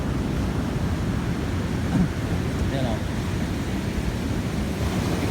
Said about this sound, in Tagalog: Lalaki ng alon, guys.